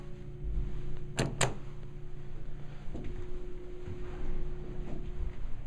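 An Otis hydraulic elevator door in a university hall opens and closes, two sharp bangs close together then a softer thud, over a steady mechanical hum with faint tones.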